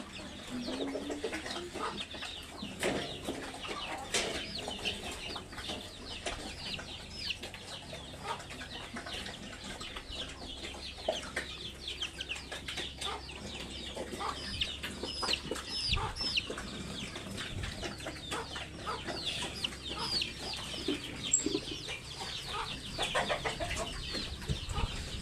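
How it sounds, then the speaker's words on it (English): Chickens on a pig farm cluck and squawk in a busy, uneven stream of calls with occasional wing flaps, close by and continuous, though a clear rooster crow is not evident. "Rooster."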